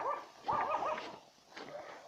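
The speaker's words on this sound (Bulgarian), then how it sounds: "Да пак се залай." Chico, a dog out on a walk through a village, gives a couple of sharp, moderately close barks mixed with whiny yips, a short burst and then another after a brief pause.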